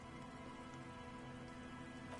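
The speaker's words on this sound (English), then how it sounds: "She looks at the rain streaming down the yellow belly of the boat." Rain streams down onto the yellow hull of a boat in a steady, even patter of drops, continuous and faint, with no voices.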